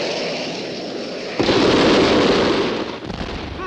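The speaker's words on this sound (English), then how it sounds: "you light the fuse, and it's kablooey, Tom Slick." A cartoon explosion goes off after a lit fuse, starting as a loud sudden burst over a hissing rumble and then crackling and tailing off.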